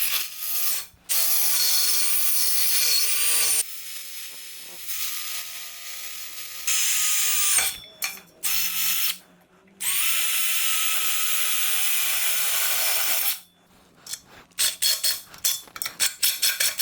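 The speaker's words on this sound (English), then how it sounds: "what we're going to be using to drill is a standard drill bit for metal" A standard metal drill bit bores holes in metal, with repeated bursts of high-pitched drill whine and grinding that start and stop, separated by short pauses and ratcheting clicks.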